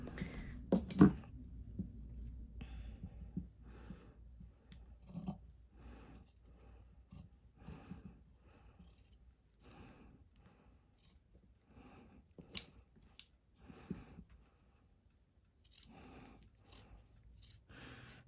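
Fabric scissors snip along a shirt's sleeve and side seam allowance, trimming beside a row of stitching: faint, close, irregular clicks and cuts spread across a quiet room.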